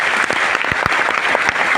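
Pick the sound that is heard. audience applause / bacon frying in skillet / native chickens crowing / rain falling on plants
audience applause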